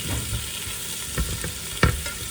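Onions fry in a pan, sizzling continuously and loudly up close, with a few sharp knocks from a stirring utensil against the pan near the end.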